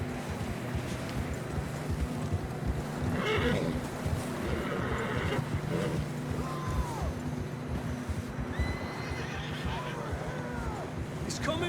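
Horses being ridden up rough ground give several whinnies and snorts amid clip-clopping hooves and gusty wind, with people speaking loudly over the whole stretch.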